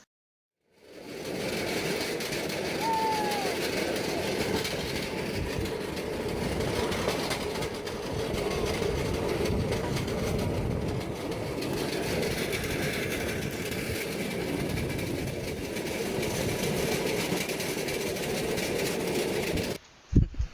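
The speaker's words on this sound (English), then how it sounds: "the railroad that we traveled, was very noisy" Rattling, rumbling railroad trolley ride on the Dellenbanan, a loud, steady mechanical clatter and drone lasting about eighteen seconds with no talk, cutting off abruptly at the end.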